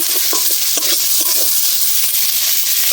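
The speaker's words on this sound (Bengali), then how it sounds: "পেঁয়াজটা নেড়ে চেড়ে ভেজে নেব" Onion is stir-fried in a pan for a prawn curry with taro, potato and eggplant: a loud, close, continuous sizzle with repeated scraping strokes of the spatula.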